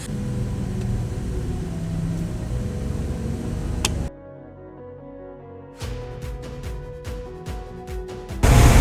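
A black Chrysler Aspen SUV cruising on the highway, heard from inside the cabin as a steady, loud road rumble and engine drone. The noise drops briefly to a quieter hum, then returns with scattered clicks and a final surge.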